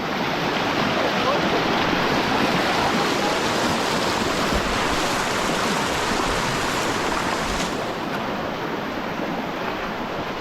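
Forceful, cold stream water rushes near Penchulakona waterfall in a loud, steady, broadband roar that holds unbroken throughout, close to the listener.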